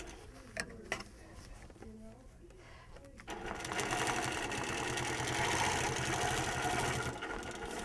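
A long arm quilting machine stitches along a circle template, its rapid mechanical whir starting partway through and holding steady and close after a few brief clicks and handling sounds.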